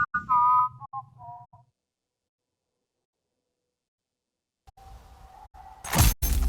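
A robot in a video game whistles a short, clear tune that slides downward and stops, then a long silence breaks into a loud, sudden shattering crash.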